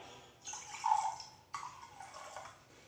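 Water poured into a Borosil glass beaker in two short bursts, a quiet gurgling splash with a pause between pours, faint and close.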